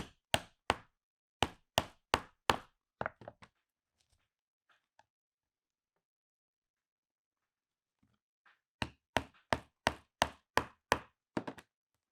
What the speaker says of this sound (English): we're using a 3/16 inch punch for this, because we're going to be putting Chicago screws through it.